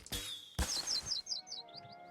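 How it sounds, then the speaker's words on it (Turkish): A bird in the video game South Park: The Stick of Truth gives a run of quick high chirps as it leaves its nest, right after two thumps, clear and close with no talk. "Kuş yuvadan uçtu."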